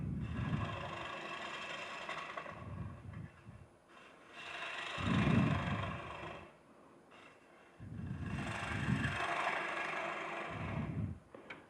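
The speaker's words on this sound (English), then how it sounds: "I know I have to remove a lot of material, and the bow gouge is a good way to do it." A bow gouge carving out wood, removing a lot of material, heard as rhythmic bursts of close scraping and rasping strokes separated by short pauses.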